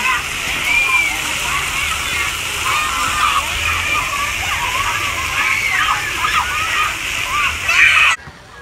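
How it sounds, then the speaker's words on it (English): Steady rushing and splashing water fills a public water park, continuous and fairly loud throughout, with voices and chatter mixed in and a brief louder surge near the end before it cuts off. "That's a lot of water."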